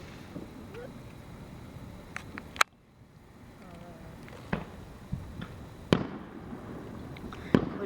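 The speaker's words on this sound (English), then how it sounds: "So you were getting the actual fireworks?" Distant fireworks burst outdoors in sharp, scattered booms about once every second or two, with a hushed gap between, over faint background murmur.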